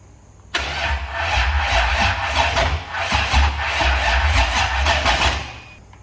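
A car engine running on E85 fuel cranks and catches abruptly, then settles into a loud, steady close-up idle with slight fluctuations before easing off.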